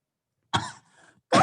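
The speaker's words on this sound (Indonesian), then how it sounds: "Aku batuk." A child coughs at a primary school religious class event for third and fourth graders: one sharp, close cough with a short rasping tail, then a second cough starting at the very end, in an otherwise quiet room.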